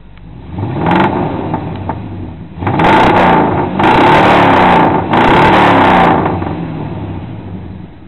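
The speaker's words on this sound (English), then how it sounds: "Listen to some throttle." Loud, close throttle blips from a 1987 vehicle's engine, about four rising revs that each swell and fall back to idle, with no talking.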